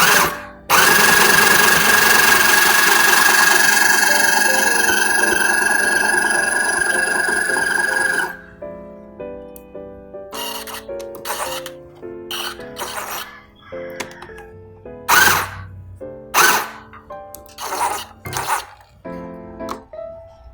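A sewing machine runs steadily for about eight seconds with presser foot lowered, locking a stitch, then falls into a series of short, separated bursts of stitching, close and loud.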